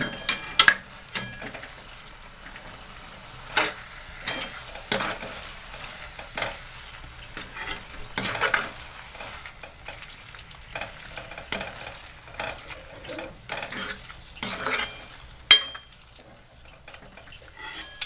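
Spring onion greens curry, cooked without water, being stirred in a hot pan, with repeated scraping clinks of a spoon against metal over a faint sizzle in an irregular rhythm, close by.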